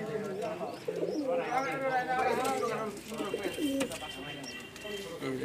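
Pigeons cooing in a loft, soft repeated coos from nearby birds heard under a person talking throughout.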